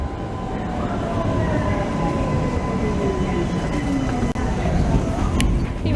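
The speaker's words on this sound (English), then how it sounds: "So here comes a tram. It is a 56A." A 56A tram in Budapest rolls in on street rails with a steady low rumble and a rising wheel squeal, close and loud, a faint voice in the background.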